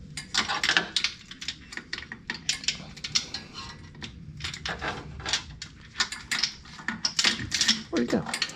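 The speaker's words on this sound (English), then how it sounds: "Got a little flex head ratcheting wrench. Yeah. That, thread that back in." Flex head ratcheting wrench threading a bolt back in near a starter, giving rapid metallic clicks and tool clatter close by, with people talking throughout.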